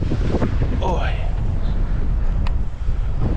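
Strong wind roars steadily across the microphone at a reservoir in November, a constant buffeting rush, with a brief exclamation from a person partway through.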